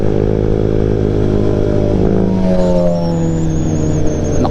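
A motorcycle engine revs loud and close, rising in pitch as the throttle opens, with steady rumble and some clatter throughout.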